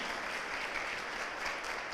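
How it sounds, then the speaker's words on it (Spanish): A church congregation applauds for the Lord during a sermon, a dense, even wash of clapping from many hands that stays steady at moderate volume for the whole moment. "Denle un fuerte aplauso al Señor"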